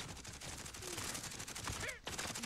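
Gunfire in the battle-royale shooter Warzone, a loud single crack landing near amid a dense, noisy game soundscape with several sharp transients.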